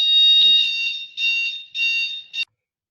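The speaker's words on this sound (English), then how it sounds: "we just briefly paused because we had a fire alarm" A loud, shrill electronic fire alarm blaring in sustained pulses indoors, three long tones and a short one before cutting out abruptly into silence.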